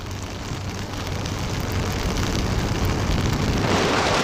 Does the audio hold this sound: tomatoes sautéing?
no